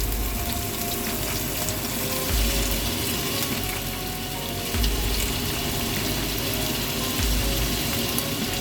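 Salmon and ginger fry in a wok with a loud, steady sizzle and crackle that fills the whole stretch at close range, with no voices over it.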